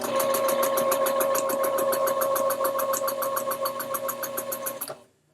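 A sewing machine stitching quilt block pieces runs in a fast, steady mechanical whirring rhythm, close and alone, then stops abruptly near the end.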